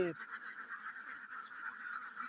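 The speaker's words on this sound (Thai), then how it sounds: "เป็ดรุ่นที่ไข่รุ่นนี้ของเรารุ่นที่สองนี่" A flock of egg-laying ducks on a duck farm, roughly two hundred and fifty birds, keeps up a continuous overlapping chorus of nasal quacks and honks, close and unbroken.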